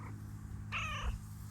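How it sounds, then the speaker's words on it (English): A heavily pregnant, petite mama cat lets out a single short meow, close and fairly quiet, against a low background hum. "That's our pregnant mama kitty."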